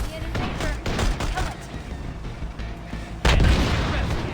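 A grenade explodes in the video game EarthFall on Nintendo Switch, a sudden loud boom cutting through scattered gunfire and rumbling combat noise.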